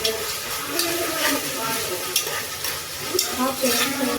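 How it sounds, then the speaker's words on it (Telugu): Ginger garlic paste sizzles steadily in a hot pan while being stirred, with a close, continuous frying hiss and periodic scraping strokes. "అల్లం పచ్చివాసన పోయే వరకు వేయించాలి"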